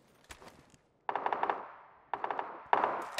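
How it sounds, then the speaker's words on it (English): Distant automatic gunfire in the video game PUBG crackles in three short rapid bursts, moderately faint, with a few scattered single shots before them. "It's like they're shooting down into fishing camp, perhaps."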